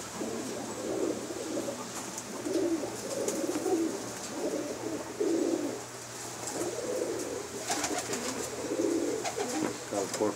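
Black Cheena pigeons coo in repeated soft, throaty phrases at a steady pace, close by, over a constant low background hum.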